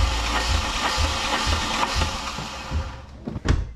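VW Polo engine cranked over by the starter with the spark plugs removed, a rhythmic whirring churn with pulsing beats that slows and stops near the end.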